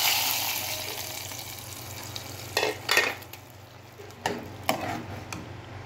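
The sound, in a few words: spices tempering in hot ghee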